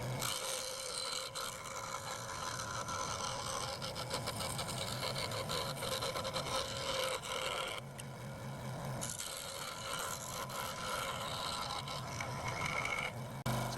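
Wooden truss rod cover blank being cut out by hand in a luthier's workshop, a steady rasping saw stroke repeating close up for the whole stretch with brief pauses, no talking.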